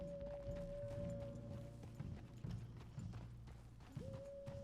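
Horse hooves clip-clop at a steady walking rhythm in Red Dead Redemption 2, faint and fairly close, with a soft sustained tone running beneath the hoofbeats.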